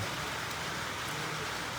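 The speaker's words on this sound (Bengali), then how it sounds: "আর এখানে বৃষ্টি পড়ছে ঝমঝম ঝমঝম করে।" Heavy rain pours down steadily outdoors, a dense continuous hiss with no gaps across the short stretch, close and full with no talking over it.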